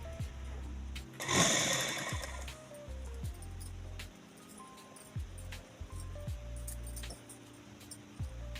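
Sewing machine stitching a peplum kurti, a rapid mechanical whirring chatter in repeated bursts with short pauses between runs, close and fairly loud, with a brief rustle of fabric early on.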